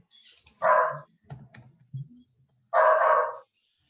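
Two short, bright barks from a small dog, separated by a pause filled with soft tapping and clicks nearby.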